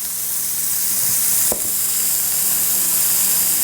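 Chopped ripe tomatoes hit a hot pan of fennel and sizzle loudly, a dense, steady frying hiss close by with a brief stirring clatter partway through, no talking.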